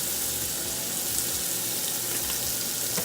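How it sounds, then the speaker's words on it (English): Shrimp-topped deviled eggs sear and fry in a pan, a dense, even, hissing sizzle that fills the whole stretch at constant loudness, with faint clicks and no talking. "once they actually start searing and frying in there"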